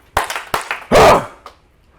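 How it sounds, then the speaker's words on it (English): At a business webinar seminar, an audience performs a power clap on three: a couple of sharp isolated claps, then one loud, dense burst of many hands striking together in unison, cut off quickly into quiet. "Here's what a power clap looks like. Power clap on 3."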